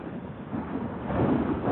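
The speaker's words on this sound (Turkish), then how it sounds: "Rüzgar çok var ya." Low, rumbling wind buffets the microphone steadily while riding an RKS SRK125R motorcycle on a forest road, a muffled roar that swells slightly louder toward the end, with no voices.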